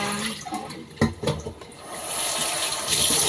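Water poured into a container to change the soaking water for sea cucumbers, a brief splashy pour around the one-second mark followed by steady running and trickling water, close and fairly loud, with no talking.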